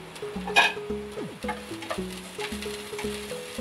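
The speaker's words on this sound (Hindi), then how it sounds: "प्याज, जिसे मैंने बारीक बारीक काट लिया था, वो ऐड कर रही हूँ। इसको भून लूंगी।" Finely chopped onion and green chilli fry in a pan for Maggi noodles, giving a soft sizzle under scattered clinks and scraping stirs, close and fairly quiet.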